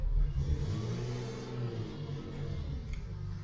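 A turbocharged car with a BMW M54 engine arrives and idles close by, giving a low, steady rumble with gentle swells in revs. There is no speech over it.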